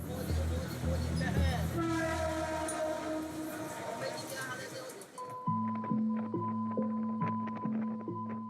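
A crowded commuter train rumbles loudly in a huge megacity, its horn sounding in long sustained blasts, then giving way to a rhythmic series of shorter horn toots over clattering wheels, with voices talking over the din.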